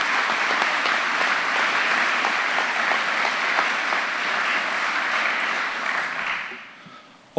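An audience at a school prize distribution applauds pupils with sustained, dense clapping. The applause stays even and fairly loud for several seconds, then fades out.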